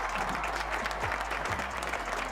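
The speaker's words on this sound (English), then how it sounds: "Round of applause for Addix." A small crowd gives a short round of applause, dense steady clapping that runs for a couple of seconds with nobody talking over it.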